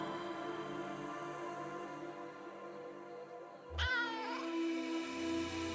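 A cat meows once in a video game, a rising, inquisitive call, over a steady synthetic background tone.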